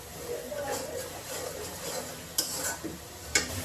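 Spice masala frying in a pan with tomato, stirred with a utensil: a soft continuous sizzle broken by a few sharp scraping clinks against the pan, with a faint voice in the background.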